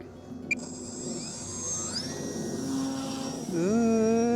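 A small aeroplane takes off from the ground, its engine droning steadily and then swelling louder and higher as it powers up near the end. A brief click sounds early on.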